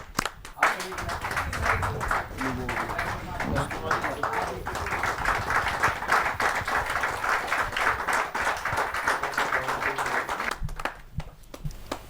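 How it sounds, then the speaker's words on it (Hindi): Loud, sustained audience applause at a Hindi kavi sammelan greets a poet, a dense wash of clapping that runs about ten seconds before tapering off. "जोरदार ताली के साथ हम उनका स्वागत करें।"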